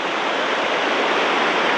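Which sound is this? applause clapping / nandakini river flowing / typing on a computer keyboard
nandakini river flowing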